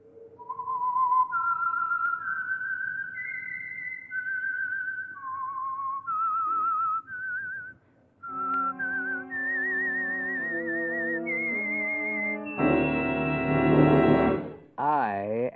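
A lone whistled signature tune for the Signal Oil radio program The Whistler rises and falls through a melodic phrase, clear and close, with orchestral backing swelling in near the end.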